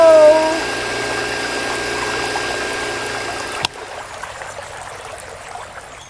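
Water gushes and splashes steadily out of a small DIY mini hand pump, a dense continuous rushing stream that cuts off with a sharp click and leaves a quieter trickle and drip.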